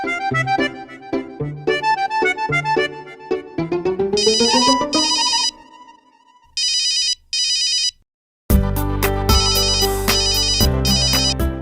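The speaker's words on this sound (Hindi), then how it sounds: "मेनका, जब भी तुम्हारा फोन आता है ना, तो घंटी फोन की नहीं, मेरे दिल की बजती है" A mobile phone ringtone plays loudly as a melodic electronic tune of rising notes, then breaks into bursts of bright chiming rings separated by short gaps, close and alone.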